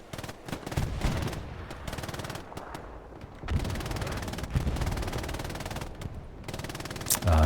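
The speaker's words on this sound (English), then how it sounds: "Joe Zimp laying down the MG fire" Machine gun fire in Hell Let Loose on the Omaha map, with long continuous bursts of rapid automatic shots, close and loud, broken by short pauses and ending with a heavy thud.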